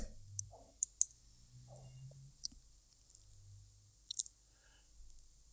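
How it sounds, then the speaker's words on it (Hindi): A computer mouse clicks a few times, faint, sharp and isolated, against a quiet background during on-screen navigation. "मैंने पेमेंट ऑप्शन पर क्लिक किया"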